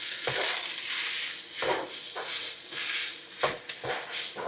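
Garlic fried rice (sinangag) frying in a pan, a constant hissing sizzle broken by several scraping stirs and spatula knocks against the pan, fairly close, no talk.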